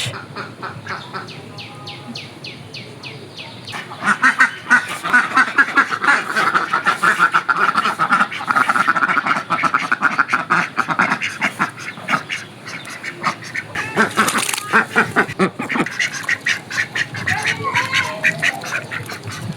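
A flock of ducks quacks loudly and continuously up close, a dense chattering chorus of overlapping calls that swells after a quieter start.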